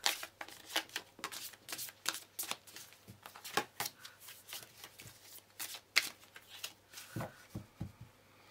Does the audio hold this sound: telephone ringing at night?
no